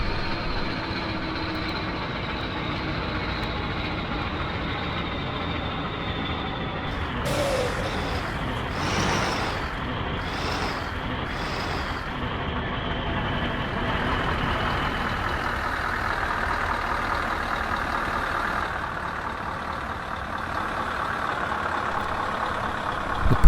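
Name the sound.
heavy haulage truck driving in Euro Truck Simulator 2 video game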